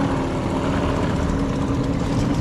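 A 4 horsepower outboard motor running on a micro boat, with a dense, steady engine drone and a continuous low rumble, close and fairly loud, with no voices.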